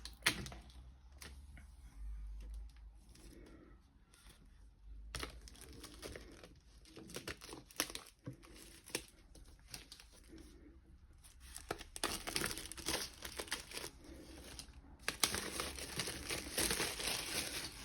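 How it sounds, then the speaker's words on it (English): Protective foil being peeled and crinkled off a new space gray MacBook Air M1 during unboxing, soft close-up crackles and tearing rustles in irregular bursts that grow busier toward the end. "We remove the foil."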